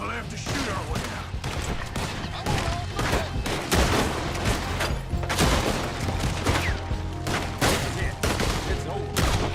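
Dense gunfire crackles in Red Dead Redemption 2, rapid overlapping rifle and pistol shots from several shooters, loud and continuous throughout, with occasional voices under the shooting.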